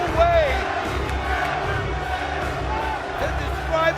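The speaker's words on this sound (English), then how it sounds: "the crowd yelling Sabu has won" A wrestling crowd at a TNA Turning Point 2005 barbed wire match roars and yells loudly throughout, a dense wall of voices with chanting swells.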